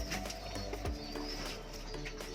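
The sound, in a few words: racing pigeon cooing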